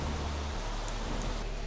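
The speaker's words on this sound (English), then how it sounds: "That takes you out into the pouring rain." Heavy rain pours in The Planet Crafter video game, a dense, steady wash of hiss close by with no breaks and no talking.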